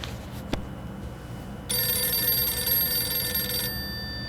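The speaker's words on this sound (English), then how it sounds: "Uh-oh, I hear a phone ringing." After a brief click, a bright electronic phone ring sounds for about two seconds in the video game 60 Seconds! Reatomized on Xbox, then stops; no one speaks.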